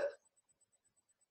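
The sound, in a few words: voice imitating hiccups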